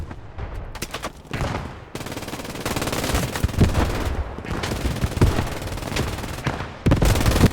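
Machine gun fire in the video game Squad 44, sustained rapid bursts with short gaps between them, loud and close, with no voices over it.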